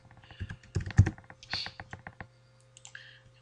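Close clatter of computer keyboard typing, uneven runs of clicky keystrokes that stop briefly and resume near the end.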